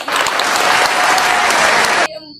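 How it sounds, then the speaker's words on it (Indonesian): Loud, dense applause from a group of neighborhood residents, a close burst of clapping that continues evenly and then stops abruptly. "Kita tepuk tangan dulu untuk Bapak Supri."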